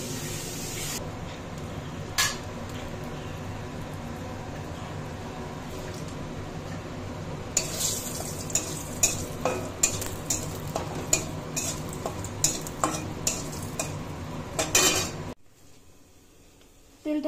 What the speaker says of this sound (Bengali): দেখো, এবার বড়িগুলো ভেজে নেব।